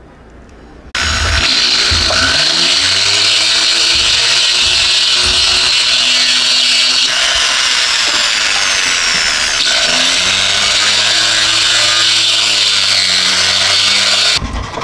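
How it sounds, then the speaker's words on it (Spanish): A small power drill or rotary tool bores a hole into a handmade silver ring, a steady high whine running loud and continuous for most of the clip, starting abruptly after a quiet second. "con la ayuda de esta curiosa herramienta está perforando un agujero, es donde va a ir la roca"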